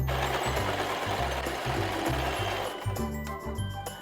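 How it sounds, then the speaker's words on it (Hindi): A Usha Janome Dream Stitch automatic sewing machine runs in steady rhythmic bursts of stitching, its low mechanical thrum pulsing close and loud, with one brief pause before it resumes. "और फिर ये नीचे पैर पर इसको स्टार्ट करूँगी।"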